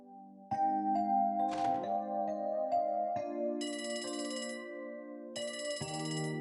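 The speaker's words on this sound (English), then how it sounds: "Phone call." A phone ringtone in the video game Trails From Zero, a bright electronic chime that plays in repeated bursts against the game's background music.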